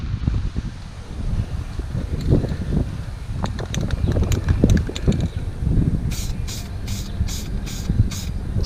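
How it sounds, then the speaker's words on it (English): Wind gusts in uneven surges, rustling leaves and buffeting the microphone, with a few sharp clicks scattered through. "That wind is really coming in. It comes in gusts."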